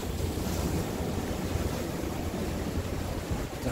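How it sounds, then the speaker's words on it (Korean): Large sea waves crash and surge against coastal rocks by a red lighthouse in Jeolla province, a loud, continuous roar of surf with heavy wind buffeting the microphone. "지금 파도가 말도 못하고 있습니다"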